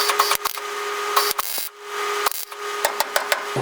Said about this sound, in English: Now what we're going to do is just tap it into place a little bit.